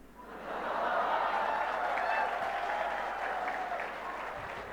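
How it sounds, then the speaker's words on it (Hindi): Sustained audience applause at a talk about Swami Vivekananda, a dense, steady wash of clapping that fills the whole stretch and fades slightly toward the end. "इसमें जो तालियां मिल रही है"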